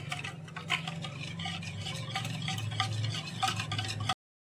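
Lukewarm milk being stirred into a steamed yeast cake batter in a bowl, with continuous wet sloshing and scraping of a spoon or whisk against the bowl, close and steady before stopping abruptly.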